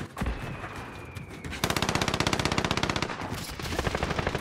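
Rapid automatic gunfire from an online shooter match, a long, loud stream of evenly spaced shots, with a brief single burst before it.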